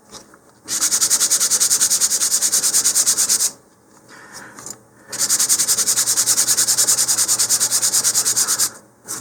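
Loud rhythmic sanding of the first finish coat on a model rocket's wood, two long bursts of rapid back-and-forth rubbing separated by a short pause with faint handling sounds.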